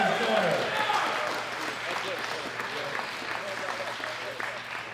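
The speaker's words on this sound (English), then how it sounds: "Give him a round of applause for him and his daughter." Audience applause fills the hall after a men's 120+ kg medal ceremony at the 2018 World Classic Powerlifting Championships, steady and dense clapping at moderate distance with a faint voice at the start.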